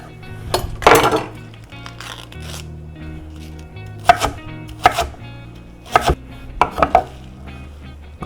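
A knife finely chopping a quarter pound of mushrooms on a cutting board: irregular crisp chops, some in quick clusters, near and clear with no talking.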